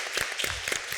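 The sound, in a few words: audience applause after a round table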